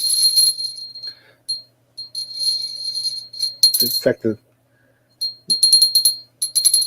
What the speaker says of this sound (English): that's the Avon Cranberry Bell